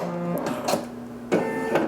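A home embroidery machine stitching a patch in black thread whirs mechanically, with sharp periodic clacks in a brief, busy run.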